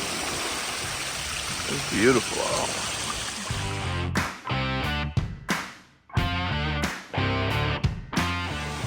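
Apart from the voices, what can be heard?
waterfall flowing into Lake Superior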